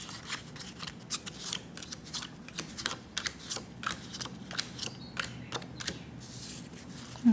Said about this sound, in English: So we're shuffling for the last time.